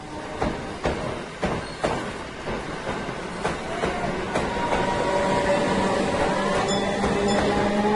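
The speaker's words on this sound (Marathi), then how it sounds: "मी मुंबईत एका लोकल ट्रेनमध्ये बसलो आहोत" A Mumbai local train runs along with a steady rumble and a rhythmic clickety-clack of wheels over rail joints, loud and continuous, with no voices.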